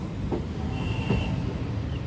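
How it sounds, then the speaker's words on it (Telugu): Express train pulling out of Jimidipeta station on the Guntur to Rayagada route, a steady broadband rumble of wheels and carriages with faint metallic squeals, heard from on board. "సో జిమిడిపేట స్టేషన్ నుండి అయితే మన ట్రైన్ అయితే బయలుదేరిపోయింది"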